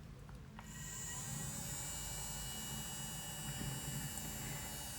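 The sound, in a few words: small fan running to dry nails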